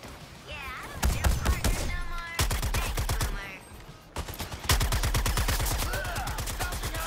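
Sustained automatic gunfire in Suicide Squad: Kill the Justice League, loud rapid volleys in three long bursts with brief pauses between, a voice speaking faintly underneath.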